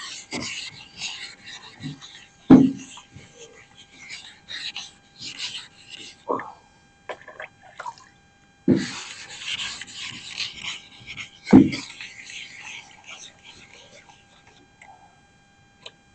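Body filler on a Peugeot 403 is sanded smooth by hand in short, separated rubbing strokes with scratchy texture and a few sharper knocks, interspersed with someone speaking French between the passes.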